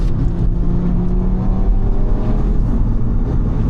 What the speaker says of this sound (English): have a good listen to that engine